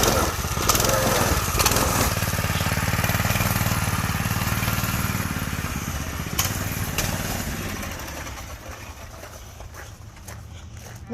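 A Predator 212 go-kart engine idles close by with a rough, chugging putter that fades slightly over time, punctuated by a few sharp clicks and knocks.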